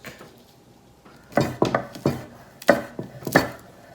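A knife chopping green onions on a cutting board in a rocking motion, a quick series of crisp close knocks in irregular bursts after a quiet start.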